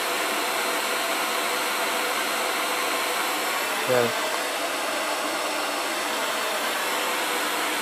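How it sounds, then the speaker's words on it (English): A hair dryer runs steadily as a heat source beside a waste-oil-burning water heater, a constant airy whirring hum throughout, with a brief spoken word partway through. "Now I can shut the hair dryer"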